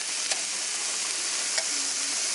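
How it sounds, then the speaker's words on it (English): Ground turkey browning in a pan gives a loud, steady sizzle with a broad hiss, broken by a couple of faint scraping stirs. "browning some ground turkey"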